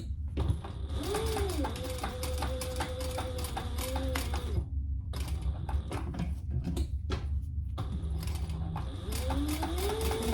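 A home sewing machine stitches fabric for a mini backpack, a fast steady mechanical whirring chatter running in long bursts with brief stops, close and clear with faint sliding fabric sounds.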